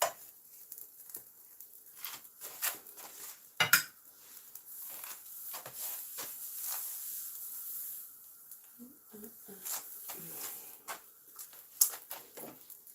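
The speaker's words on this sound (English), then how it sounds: "I'm going to flip this over" Quiet kitchen clatter: a spatula scrapes and taps against a frying pan while flipping a pancake over very low heat, with a soft sizzle, in scattered light clinks and knocks.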